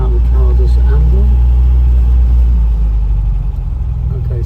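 A 1977 MG MGB roadster with a petrol engine and manual gearbox, soft top up, idles smoothly just under 1,000 rpm while stopped at a junction, a steady low rumble heard close, with wind noise around it.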